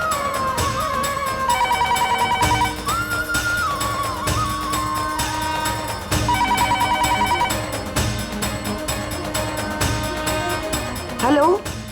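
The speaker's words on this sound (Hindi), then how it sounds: "रागिनी, ये फोन क्यों नहीं उठा रही है?" A telephone rings repeatedly in a melodic warbling pattern, loud and close, over background music with voices present.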